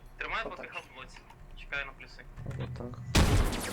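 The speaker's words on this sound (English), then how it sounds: "Looks like a first grenade gets launched into the building." Grenade blasts in the tactical shooter Squad, with one sharp, loud explosion bursting out near the end after stretches of radio-style team chatter and faint distant gunfire.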